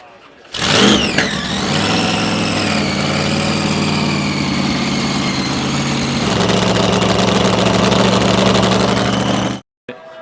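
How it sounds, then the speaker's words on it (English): A classic car at a drive-in's final cruise night cranks and fires up, then settles into a loud, steady, deep idle with a slight change in tone partway through before cutting off abruptly. "I think it's time to fire this car up and knock some moisture off the engine."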